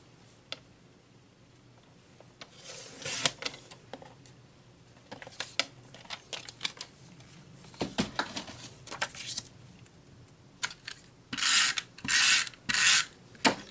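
Paper for a scrapbook layout is trimmed with quiet scraping and rasping strokes nearby, in scattered short bursts that end with several louder, longer swipes.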